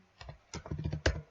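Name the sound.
typing localhost on a computer keyboard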